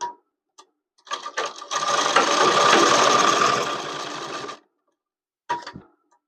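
A sewing machine runs a continuous burst of stitching along a shirt collar, loud and close for about three seconds, with short clicks before and a brief start-up after.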